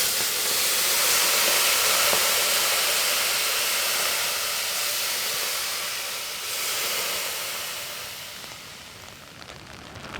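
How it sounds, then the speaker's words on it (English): Water poured onto hot rocks atop a wood-fired sauna stove throws off a loud, close, continuous hiss of steam that holds for several seconds and gradually tapers, with no voices. "the rocks on top, we could pour some water and get some steam"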